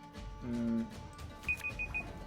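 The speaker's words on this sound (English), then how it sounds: "Apologies, alarm going." An alarm goes off during a Gwent card game session, a short run of four evenly spaced high beeps near the end, preceded by a brief tone, over background voice and room noise.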